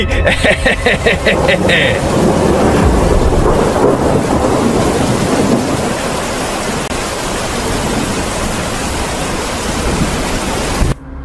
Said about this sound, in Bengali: এই তো মেঘ ধরেছে, এবার বৃষ্টিও হবে।